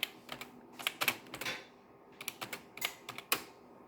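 Keys clack on an old computer keyboard in irregular bursts of quick typing with short pauses between them. The taps are close and crisp in a quiet room.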